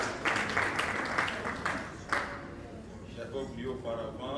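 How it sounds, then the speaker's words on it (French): A church congregation at a fifth-anniversary celebration dinner applauds and cheers loudly for the Lord, sustained clapping with a few sharp peaks that fades into murmuring voices. "Nous acclamons très très très fort pour le Seigneur."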